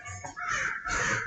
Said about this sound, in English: Well, the crows are back.